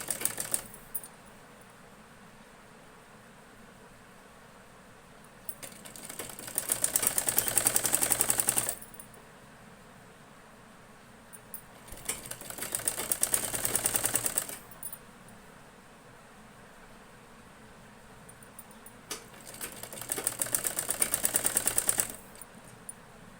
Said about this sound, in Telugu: చిన్న మిషన్తోనే వేస్తున్నాను పైపింగ్ అనేది.